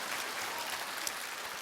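Steady applause from a crowd, a dense wash of clapping at even volume throughout with no voices.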